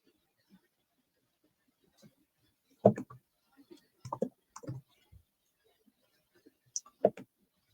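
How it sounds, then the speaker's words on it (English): A computer mouse clicks sparsely while someone browses a crypto listing website: a few isolated soft clicks, then a quick cluster of several, then one more pair near the end, close and fairly quiet. "click right through here"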